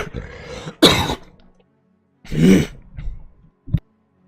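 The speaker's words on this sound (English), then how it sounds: "the worst coughing fit I think I've ever had" One person has a harsh coughing fit close to the microphone: a few hacking coughs and throat-clearing bursts separated by short pauses, with no talk.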